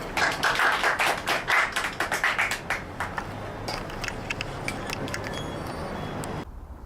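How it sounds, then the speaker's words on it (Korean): Welcoming applause from a church audience at a Thursday culture evening in a tent café, a burst of close individual claps that thins out into scattered taps and fades to quiet. "박수로 환영하겠습니다"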